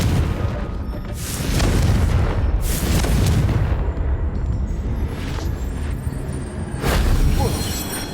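Repeated booming blasts from the Confringo fire spell in Hogwarts Legacy on Nintendo Switch, heavy explosive bursts layered over continuous rumbling game noise.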